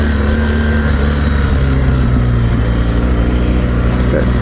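A 2016 BMW R 1200 GS Adventure motorcycle engine hums loud and close on a demo ride at Laguna Seca, a steady low drone with slight rises in revs and no clear silence.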